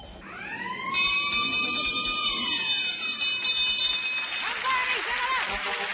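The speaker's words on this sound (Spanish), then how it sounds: "¡Campana y se la va!" A bell rings on a Spanish television game show with a bright, sustained metallic tone that sweeps and fades over several seconds. A studio crowd swells in noisy reaction beneath it and rises as the bell ends.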